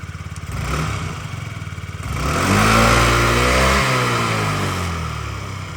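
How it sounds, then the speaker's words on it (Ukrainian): A Yamaha BWS 49 four-stroke fuel-injected off-road scooter engine idles steadily, then revs up and holds a louder, rising drone before easing back down; close by, with no talking. "Ідеальна робота двигуна взагалі, до речі, він на всіх рідних запчастинах."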